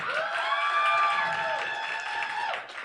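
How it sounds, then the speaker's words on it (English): Poetry slam audience clapping for themselves, a steady, dense round of applause that fills the room from start to finish, with a few cheers and voices mixed in near the end. "Clap it up for yourselves."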